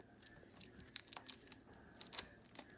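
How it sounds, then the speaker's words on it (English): Plastic wrapping is peeled off cheese while cooking with kids: quiet, close crinkly tearing bursts in short irregular spurts. "Then you would wanna peel open your cheese."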